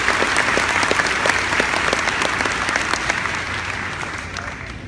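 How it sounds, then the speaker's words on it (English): At a high school graduation ceremony, an audience gives a round of applause for career tech teachers, with dense, sustained clapping throughout that fades slightly at the end. "If you all would stand and get a round of applause"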